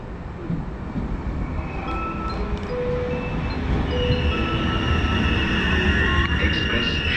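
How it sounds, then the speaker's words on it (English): A train rolls slowly into a station platform on the Bratislava to Trnava route in Slovakia, a low rumbling rail noise growing gradually louder with faint squeals and station ambience. "I see the train slowly coming"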